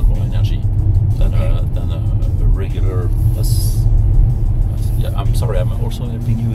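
A car drives along with a low, continuous engine and road rumble inside the cabin, while people talk over it throughout.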